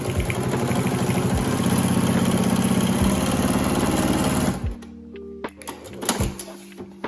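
Sewing machine stitching a piperoll, a steady mechanical whir with fast regular needle strokes running loud for about four and a half seconds, then stopping, followed by a few scattered handling knocks.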